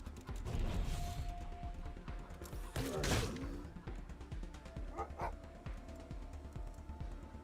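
A hostile dog in the video game Wasteland 3 barks in short yips and bow-wows amid combat, with a loud burst near the middle and mechanical game noises scattered around it.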